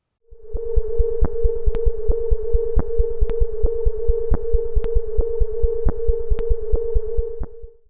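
The sonified electromagnetic signal of the star KIC 1226: a steady low electronic hum with sharp rhythmic clicks pulsing over it at a regular, irregularly accented beat.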